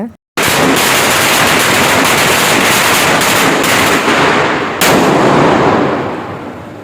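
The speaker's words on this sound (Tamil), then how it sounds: "ஒரு சின்ன சின்ன வெடி சத்தத்தோடு அப்படியே லைட்டாக ஸ்டார்ட் ஆச்சு" Dense, continuous crackling of Diwali firecrackers bursting in rapid succession at an apartment in Penang, Malaysia, loud and sustained, with a sharper burst partway through.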